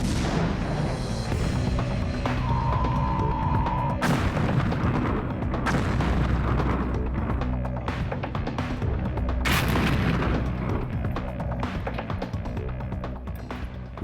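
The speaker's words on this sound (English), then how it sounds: "you can see the rocket in flight towards the building" A Matador shoulder-launched missile fired at a building, with sharp booming blasts and impacts spread through the clip over steady background noise, no voices.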